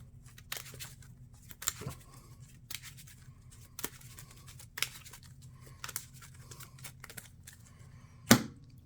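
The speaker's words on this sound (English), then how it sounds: "Just shuffle all of this back in." Marvel Champions playing cards being shuffled back into a deck on a tabletop: soft, scattered ticks and riffling snaps at irregular intervals, with one sharper, louder snap near the end, fairly close and without talk.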